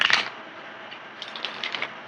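Tarot cards being shuffled by hand, a quick papery riffle at the start followed by softer flicking and tapping of cards, close and quiet with no talk.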